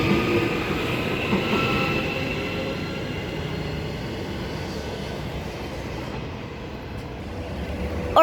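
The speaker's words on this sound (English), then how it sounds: "I'm right next to the motor in the middle garage, so it's so loud when it departs." An EMU electric multiple unit train departs a station platform, heard from beside the motor in the middle car as a loud, steady traction roar and rolling rumble that holds throughout at close range.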